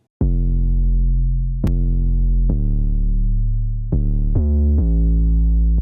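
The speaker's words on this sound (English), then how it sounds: "the low part, I should say, is an 808, and it sounds like this." Booming 808 bass notes play alone, a handful of long sliding low tones, each starting with a sharp attack and ringing out heavily.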